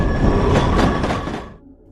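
A train rolls out of town, its loud, close rumble of wheels and carriage noise sustained before cutting away abruptly near the end.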